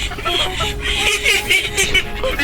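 Backyard chickens cluck and murmur nearby in a steady, busy chatter, with a few higher squawks rising above.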